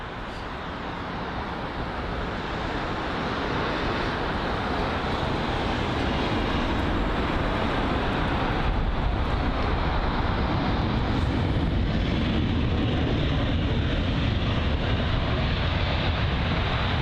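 British Airways Airbus A319, registration G-DBCA, arriving from Prague at London Heathrow: a loud, steady jet roar that holds without letup for the whole stretch, with no voices over it.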